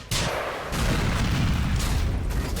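Two heavy explosions from combat in the Grand Theft Auto IV video game, a sharp boom near the start followed by a louder, sustained blast with rumbling low-end debris noise, loud and close with no talk over it.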